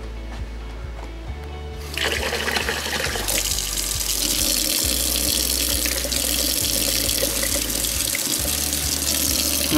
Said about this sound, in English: Then I'm going to put some water.